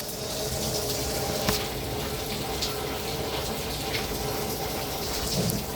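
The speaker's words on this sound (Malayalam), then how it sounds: "തേങ്ങാപ്പാൽ ഫസ്റ്റത്തെ തേങ്ങാപ്പാൽ ഒഴിക്കുകയാണ്." Thick first-extract coconut milk streams into beef curry, a steady, soft continuous pouring hiss that runs unbroken for several seconds with no talking.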